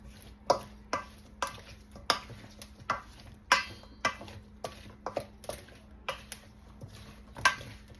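Homegrown garden vegetable salad tossed in a bowl, with a steady run of soft clattering knocks about twice a second, close by and with no talking.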